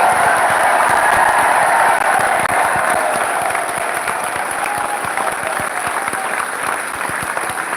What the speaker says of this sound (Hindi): तालियां बनती रहे, सबकी थकान दूर हो रही है।